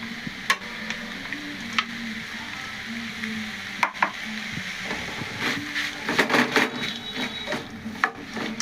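Dried red chillies, cumin and garlic fry in hot oil, giving a steady close sizzle with scattered sharp pops and crackles that grow busier toward the end.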